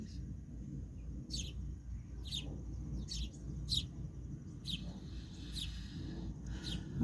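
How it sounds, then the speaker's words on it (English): Starlings chirp in a run of short, bright calls spaced through the scene while feeding on ravioli outdoors, set over a steady low rumble of background noise. "You got the starlings eating the raviolis now."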